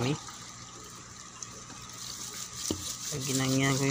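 Water runs and gushes through okra planting rows as they fill and drain, a continuous watery wash that grows louder toward the end, with someone speaking over it.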